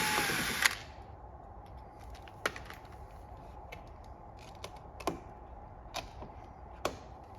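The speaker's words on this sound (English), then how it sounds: "Carefully remove the lens because you don't want to break an Altissimo lens" Small clicks and light mechanical taps from prying a fragile Altissimo lens off a 1980 Mk2 Escort RS2000, sounding as a few sharp isolated ticks spaced about a second apart over a quiet background.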